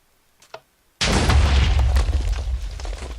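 A Minecraft TNT cannon fires and detonates, giving one loud, abrupt boom that hits at once and then rolls on as a dense, rumbling roar for several seconds. A faint brief click comes just before it.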